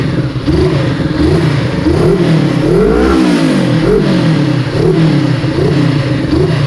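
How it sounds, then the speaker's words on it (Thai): A Honda CBR500R motorcycle exhaust with its servo valve closed runs loud and close, revving up and down in repeated swells over a steady engine drone, with no talking. "ทีนี้ลองลองตอนปิดนี่ อันนี้ปิดแล้วเงียบกิบ"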